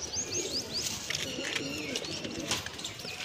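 Breeding-setup pigeons, including Kaldum birds, coo softly in repeated low murmurs amid light chirps and rustling, faint and near, with scattered conversational voices nearby.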